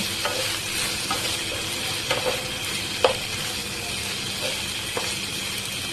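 Okra frying in oil in a pan as it is stirred, a steady close sizzle broken by occasional scrapes and clicks of the spatula.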